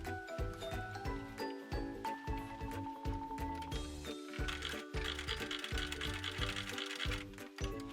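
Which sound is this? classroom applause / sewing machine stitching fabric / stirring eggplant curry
sewing machine stitching fabric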